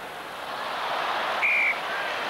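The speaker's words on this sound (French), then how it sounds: "la balle est sortie, Monsieur Watson a sifflé." A referee's short whistle blast at a 2003 Rugby World Cup match between New Zealand and Wales, heard once amid a steady stadium crowd roar.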